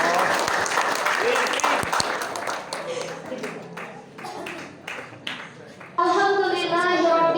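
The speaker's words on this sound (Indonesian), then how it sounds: "Tepuk tangan dong Sumatera Utara." Audience applause at an Islamic gathering, clapping strongest at the start and fading under voices and chatter, then a voice rises sharply near the end.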